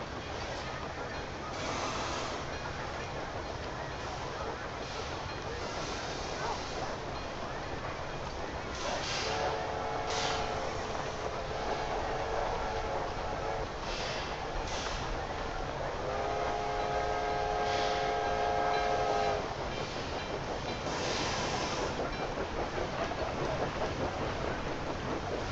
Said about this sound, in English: Looks like the train with grain is coming in for beer transports.